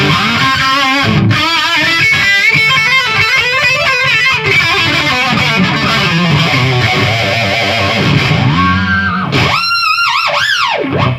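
Heavily distorted electric guitar played loud and continuous through a Marshall JVM210 tube amp, with chunky chords and riffs, ending in a few squealing high notes.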